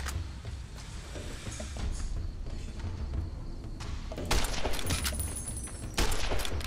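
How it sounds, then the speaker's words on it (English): Distant gunfire in Fallout: New Vegas: faint scattered shots in the opening seconds, then sharper bursts later over a low, muffled background. "Why am I getting shot at right now?"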